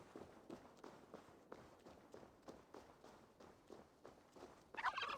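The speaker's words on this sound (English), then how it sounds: "Oh, the deadly turkeys are back." Turkeys in the video game Assassin's Creed Valhalla gobble and cluck in quick bursts, faint and mid-distance, with soft footstep taps and a louder burst at the end.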